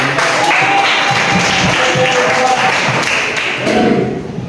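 Students in a classroom clap steadily for several seconds, a dense, fairly loud patter of hand claps with some thumps.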